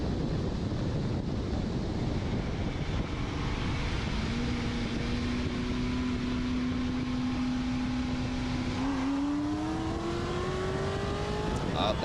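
A Chevrolet Corvette C7 Z06 drag races a 1000 hp twin-turbo Ford F-150 on the street, its engine note climbing steadily through the revs under heavy wind buffeting, then shifting and pulling higher.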